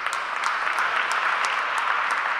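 Indoor crowd at a Greek women's volleyball league match claps steadily in an arena hall, a dense, even patter of applause with no voices over it.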